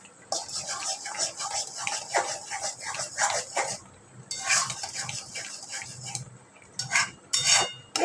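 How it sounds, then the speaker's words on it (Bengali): Bottle gourd with poppy seed paste is stirred in a pan, with rapid, repeated close scraping and clinking of the spatula, a brief pause midway, then more strokes. "দিয়ে এটাকে ভালো করে নাড়াচাড়া করবো।"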